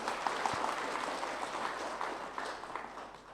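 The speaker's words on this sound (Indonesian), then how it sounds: "Tepuk tangan dong." Congregation at a religious sermon clapping together in a steady, dense round of applause at moderate level, easing slightly toward the end.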